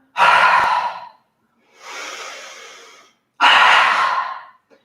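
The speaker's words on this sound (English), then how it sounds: "So it's a really big lion breath." Three loud, forceful open-mouthed lion-breath exhalations during a yoga flow class, each a long breathy rush, with the middle one softer and a short silence between each.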